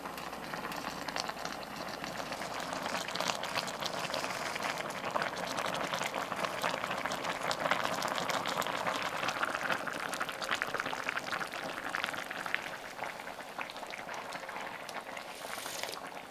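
Bulgogi with soaked glass noodles, enoki and oyster mushrooms simmers in a pot, a steady soft bubbling and hiss running continuously at close range without talk.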